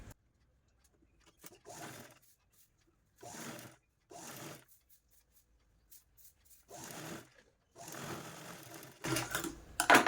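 A sewing machine runs a double line of stitching on a blouse, seaming the lining and main fabric in short whirring bursts separated by quiet pauses. The machine sounds close and clear, with no talking.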